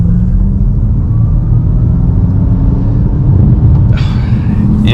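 A Ford Mustang Mach-E GT electric car accelerates uphill, giving a steady loud rumbling road and motor drone with a faint rising whine, recorded from inside the car.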